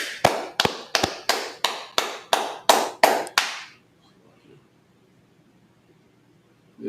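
Rhythmic group clapping at a religious gathering marking the closing of the Feast of Unleavened Bread: about ten sharp, evenly spaced claps in unison, loud and close, then a sudden stop into near silence.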